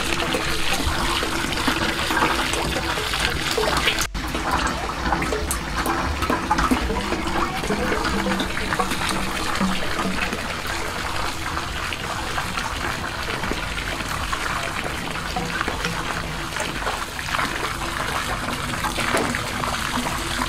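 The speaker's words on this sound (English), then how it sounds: "So here the water coming very, very strong." Water gushes hard and continuously from a homemade wheel pump drawing from a deep well, a loud unbroken rushing splash throughout, with one sharp click early on.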